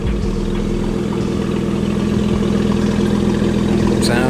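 A car engine idles steadily before a test drive, a loud, even low rumble with a constant hum and no revving.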